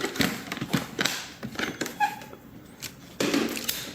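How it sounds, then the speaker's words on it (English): A Corona 3 portable typewriter case being lifted and set aside, giving several close, sharp taps and knocks spread unevenly through the moment, with a louder handling thump near the end. "Take the case, set it aside."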